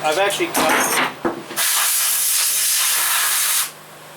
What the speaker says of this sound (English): So, which I could actually spray some out with air.